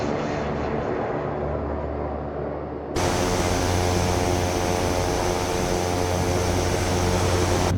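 A Black Square Caravan turboprop in MSFS 2024 roars past in a flyby, a steady propeller drone that jumps abruptly louder and brighter midway and holds at full volume.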